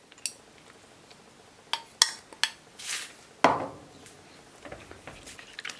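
A utensil knocks and scrapes around a bowl while Nutella cupcake batter of eggs and milk is mixed. Sparse taps and one stronger scrape come close against a quiet background.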